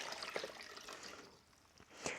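A litre of warm water being poured into a container, a soft continuous trickle and splash at low volume that dips in the middle and swells again near the end.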